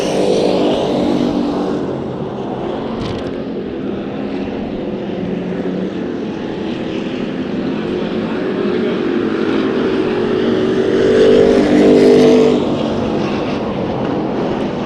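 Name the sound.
hobby stock race cars racing in a heat race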